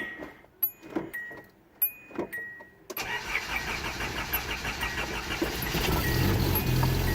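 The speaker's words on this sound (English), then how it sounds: "That is a cold start." A 33-year-old RV cold-starts near freezing: a few ticks and clunks, then the engine cranks and catches at about three seconds into a rough, steady idle that grows fuller and louder.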